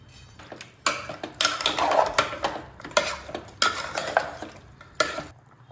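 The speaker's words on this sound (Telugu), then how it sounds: "నూనె లేకుండా 10 నుండి 15 నిమిషాల పాటు దీన్ని వేయించుకోవాలి." Whole spices such as cardamom, peppercorns and cloves dry-roast in a pan without oil, with repeated rattling stirs and scrapes of a spoon against the metal in bursts and a faint sizzle underneath.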